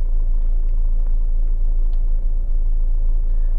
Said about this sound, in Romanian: Așa, și ascult să vezi cum rulează mașina.